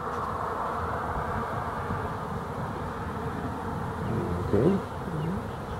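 Honeybees flying in and out around a hive, a steady close buzzing hum throughout, with a soft spoken word near the end.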